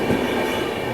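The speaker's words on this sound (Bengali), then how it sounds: "ভাবতে পারিনি যে এই ভিডিওর মধ্যেও ট্রেন চলে আসবে" The Biswabharati Intercity Express rolls past at Tarakeswar during the crowded Shrabani Mela, a loud, steady rumble of a passing train filling the whole moment with continuous wheel and carriage noise.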